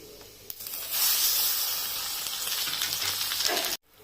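Spices and onion-tomato paste hitting hot oil: a loud, hissing sizzle bursts in after a moment, holds steadily, then cuts off abruptly.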